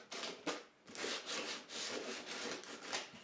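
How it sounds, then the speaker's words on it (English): Wooden door edges are rounded over and smoothed with steady back-and-forth abrasive strokes, a repeated hissing rasp heard close and alone. "Rounding those edges over and smoothing them out"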